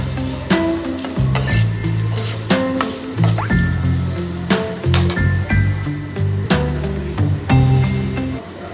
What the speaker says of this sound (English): we are mixing the turmeric powder with this potato and peanuts. So let's mix it gently, and we will continue this frying in a low heat.